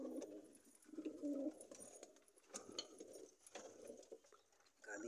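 Low, soft cooing of a pigeon in a nest box as it settles to lay eggs, repeating in rhythmic bursts under light clatter and room noise.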